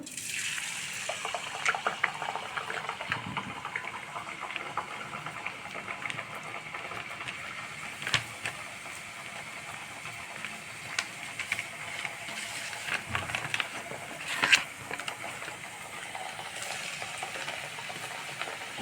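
Sweet and salt seedai dough balls fry in hot oil with a soft continuous bubbling hiss, dotted with faint crackles and a few light knocks.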